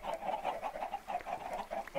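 Minecraft chickens cluck in a quick, repeated series of short, fairly faint calls, with no talk over them.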